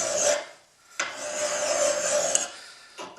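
A Troy-Bilt tomahawk blade is sharpened with a file in two long rasping strokes with a short pause between, close and steady, plus the start of a third.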